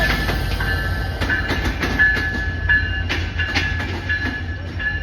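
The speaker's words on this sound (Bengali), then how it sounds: "পিছন দিয়ে আমাদের ট্রেন যাচ্ছে" A train rumbles past nearby with rhythmic clickety-clack of wheels over rail joints and a faint high squeal, loud and continuous throughout.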